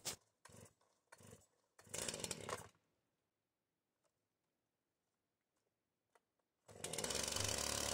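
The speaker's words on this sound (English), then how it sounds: "I always like to warm up my chainsaws a little bit before I open up and go full bore when bucking a log like this." A chainsaw being warmed up before bucking a roadside log into firewood gives several short, loud revs, falls quiet, then opens up into a sustained roar close by.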